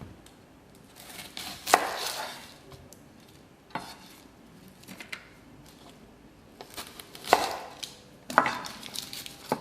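Red onion sliced into thin wedges with a knife on a chopping board, a few separate crisp cuts spaced out over quiet kitchen background, with soft clinks of utensils.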